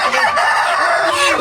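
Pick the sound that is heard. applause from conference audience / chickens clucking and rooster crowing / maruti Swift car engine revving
chickens clucking and rooster crowing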